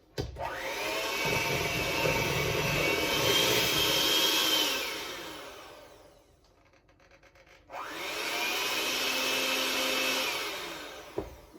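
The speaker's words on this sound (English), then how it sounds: "now I've beaten it for 3 minutes with the electric mixer" An electric mixer whirring through bread dough runs loud and steady for several seconds, winds down to near quiet, then starts up again for another sustained run before stopping.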